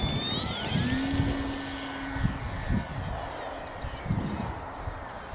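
An Arrows Hobby Bigfoot RC model plane on its maiden flight whines overhead, its electric motor pitch rising and falling as it passes, over steady wind buffeting.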